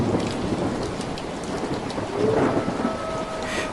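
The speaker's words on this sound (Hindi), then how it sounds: "आसमान में बादल गरज रहे थे।" Heavy rain pours steadily while thunder rumbles low and long through the downpour, loud and close.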